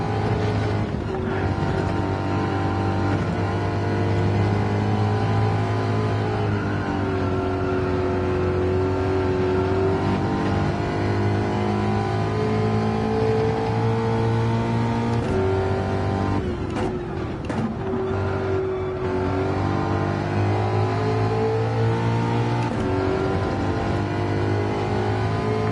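A race car engine in a racing video game holds a loud, sustained drone through the whole stretch, its pitch rising and falling as the car accelerates and shifts, with a short dip partway through.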